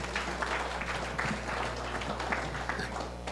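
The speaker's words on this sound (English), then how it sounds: "So please, let's applaud F.I.S.H for that." An audience at a community gathering applauds, with faint, steady clapping over a low background hum.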